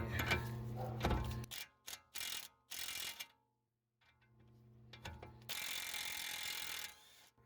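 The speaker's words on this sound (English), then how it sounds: "I wonder if I can just use an impact and zap that bitch off" A BMW i3 tie rod nut is worked off with bursts of ratcheting and mechanical rattling, several short loud runs broken by pauses, then a longer steady whir near the end.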